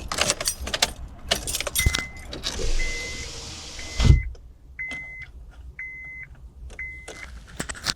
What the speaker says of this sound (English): I gotta roll up my windows so sneakily